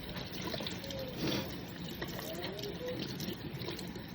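Water trickling and splashing softly while rocks are rinsed by hand, a faint continuous dribble with small splashes throughout.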